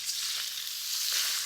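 Chicken pieces fry hard in smoking macadamia oil in a wok, a steady, loud, dense sizzle filling the short stretch with no voices.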